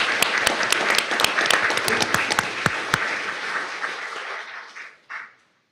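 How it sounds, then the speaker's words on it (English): An audience at a school board meeting gives a round of applause, a few sharp individual claps standing out over dense clapping that thins out and fades, ending with a last brief burst. "please give these young ladies a round of applause for their accomplishment."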